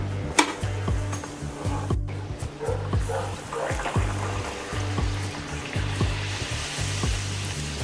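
A puri deep-frying in hot oil for a shrikhand-and-puri meal, giving a constant close bubbling sizzle with regular soft ticks and occasional utensil knocks, no talking.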